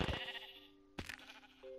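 Sheep bleats in the video game Minecraft: two short, bright, wavering calls separated by a pause, clear and alone with no talk.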